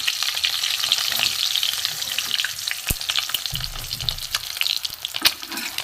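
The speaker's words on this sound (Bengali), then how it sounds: "এপিট ওপিট করে ভালো করে ভেজে নেব।" Food fries in oil in a pan with a constant crackling sizzle and occasional sharp clicks and scrapes of a utensil turning the pieces over, near and steady, with no talk.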